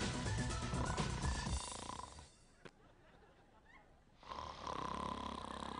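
Snoring from a patient in a hospital setting, a loud rasping snore that fills the first two seconds, drops out into quiet, then returns strongly near the end.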